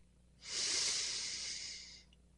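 A single slow, soft breath during a guided meditation, a long airy exhale or inhale lasting over a second and a half, close and quiet with no talking.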